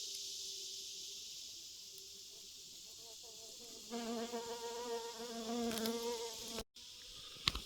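Bumblebees buzzing around their nest beside a dry Appalachian creekbed, a faint steady hum at first that grows into a louder, wavering close buzz as insects fly near, with a brief dropout near the end.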